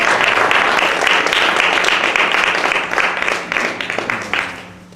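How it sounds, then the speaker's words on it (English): A big round of audience applause for three artists at a live-streamed event, loud and close, with many hands clapping densely and beginning to thin and fade toward the end. "please congratulate these three artists with a big round of applause"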